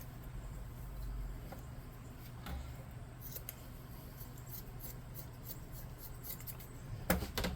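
Quiet, intermittent crisp snips and rasping cuts of scissors through fabric, with a steady low background hum and a sharper burst near the end.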